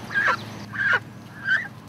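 Geese calling in three separate honks spaced evenly over two seconds, each a bright nasal cry, fairly close, over a low background rumble.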